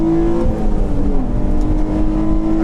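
Nissan 350Z on Nitto tires lapping a race track, its engine droning steadily at close range with a sustained tone that shifts pitch slightly as the car works through a lap, no voices.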